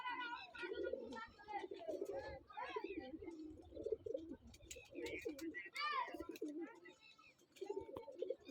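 Pakistani pigeons coo repeatedly at close range while people talk nearby.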